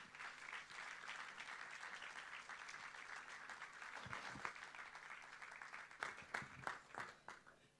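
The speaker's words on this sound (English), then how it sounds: "Please give her a warm welcome applause." An audience at an award ceremony for the Sehsüchte 2022 film festival applauds steadily, a soft, distant wash of many clapping hands, with a few sharper individual claps toward the end.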